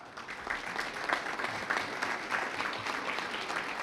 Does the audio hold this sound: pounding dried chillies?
no